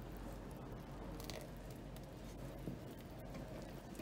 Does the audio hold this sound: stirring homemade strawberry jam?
yes